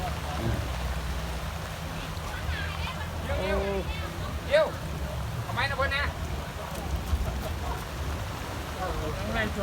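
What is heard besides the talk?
heavy rain falling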